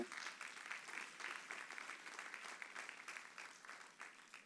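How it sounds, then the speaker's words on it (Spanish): A congregation at a Spanish-language church service applauds, a faint, steady wash of many hands clapping together without speech. "Denle fuerte el aplauso."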